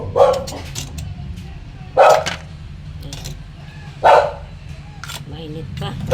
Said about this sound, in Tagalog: Ang ingay ng aso namin, pasensya po. Maingay talaga yan.